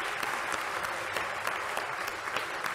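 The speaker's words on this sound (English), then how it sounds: "you need to give yourselves a round of applause for writing this poem" Children in a lecture audience clapping together at a Christmas poetry event, a brisk, steady patter of many hands, moderately loud and unbroken, with no talk over it.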